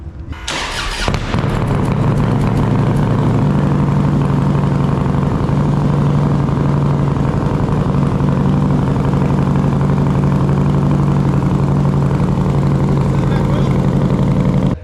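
A low-frame motorcycle with 39-inch flat fishtail pipes fires up, then settles into a loud, steady, throbbing idle that runs close and continuous throughout.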